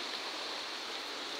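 River water flowing as a steady, even rushing hiss with no breaks, moderately loud and close, with no voices or other sounds.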